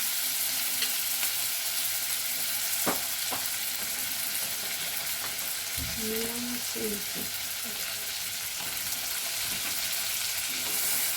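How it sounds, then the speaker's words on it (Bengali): Onions and chopped tomato fry in a pan with a faint, steady sizzle. A few brief knocks and scrapes from stirring come through, and a short murmur is heard partway through. "পেঁয়াজটা একটু নাড়াচাড়া হোক, তার মধ্যে আমি দিয়ে দেবো খানিকটা টমেটো কুচি।"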